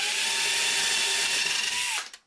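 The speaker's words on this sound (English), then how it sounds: "I just drill next to the track" A power drill whines steadily at high speed for about two seconds, then winds down and stops, drilling a hole beside model railway track.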